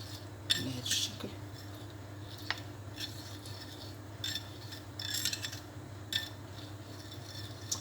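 Lemon juice being whisked into cake batter in a bowl: faint scraping and intermittent metallic clinks of the whisk against the bowl, in short bursts over a low steady background hum.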